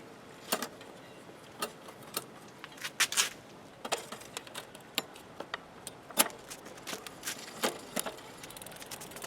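A stuck Shimano bicycle shifter is bypassed by moving the gears by hand: sparse, quiet metallic clicks and ticks scattered irregularly, with no voices.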